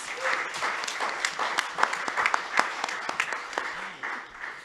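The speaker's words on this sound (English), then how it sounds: "We give everybody a round of applause." An audience at a talk on balancing paid work with passion projects applauds in a steady, even patter of many hands. The clapping is moderately loud and close, with a brief voice faintly underneath.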